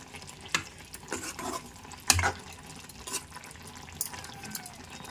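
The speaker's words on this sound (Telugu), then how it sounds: "ఇదిగో చూసారా ఎంత చక్కగా ఉడుకుతుందో" A brinjal and drumstick curry simmers in a pot, giving soft, uneven bubbling and faint sizzling with occasional stirring knocks, close by and fairly quiet, with no talking.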